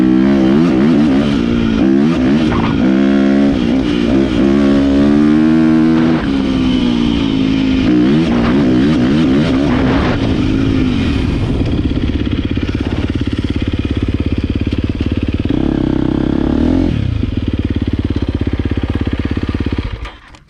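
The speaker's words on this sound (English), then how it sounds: "The bike will actually, unlike a lot of big 4-strokes, will actually start up under throttle." A 2023 KTM 350XCF four-stroke dirt bike fires up with about an eighth to a quarter throttle on a hot start and settles into a loud, steady, close engine drone. The pitch wavers slightly, then a short rev rises near the end.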